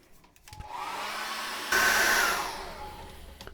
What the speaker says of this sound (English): So I'm going to dry that off very quickly with a hairdryer